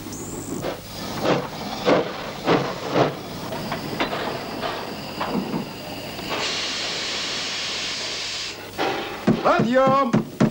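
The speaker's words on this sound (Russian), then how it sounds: "Точно поезд." A steam train arrives with a loud, sustained hiss of venting steam and rumbling carriages, heard in a 1981 war film scene alongside voices talking before and after it.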